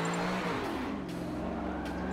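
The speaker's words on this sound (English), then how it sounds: "we'll just clutch kick it in third. And it'll just light up those race tires right away" A rear-wheel-drive race car in Forza 7, over 1000 horsepower, on the Dubai circuit, clutch-kicked in third gear: the engine surges and rises in pitch while the race tires break loose, a loud, steady roar lasting about two seconds.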